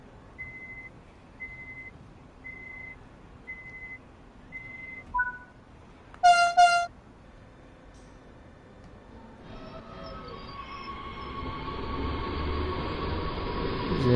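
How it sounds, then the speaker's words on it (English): Tanker train rolling past in Train Sim World 3 on the Hauptstrecke Rhein-Ruhr line, a steady rumble and wheel noise that builds up after a series of warning beeps and a short horn-like burst. "There's a tanker train going by."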